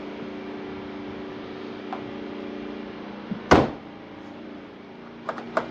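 A Mini's central locking actuates with a single sharp clunk from the new remote key, followed moments later by a couple of faint ticks, over a steady low hum.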